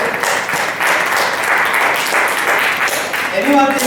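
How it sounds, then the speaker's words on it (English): An audience at a quiz fest competition applauds the institute, with steady loud clapping and some voices woven into the crowd noise. "A round of applause to the institute for coming up with a novel idea"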